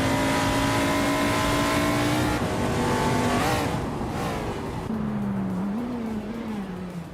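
Racing car engines roar continuously in an AI racing game, with sustained high-pitched drones that shift pitch as cars accelerate and pass, loud and dense throughout with no voices.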